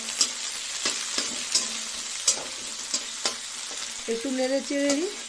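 Green chili and onion frying in mustard oil, stirred with repeated scraping strokes against the pan over a bright, close sizzle; a brief squeaky scrape near the end.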